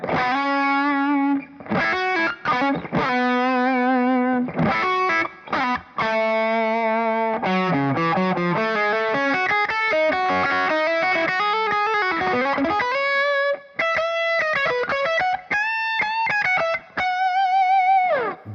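Heavily distorted electric guitar through a high-gain amp head, playing a melodic lead with sustained, liquid notes and quick runs, loud and up front with no talking.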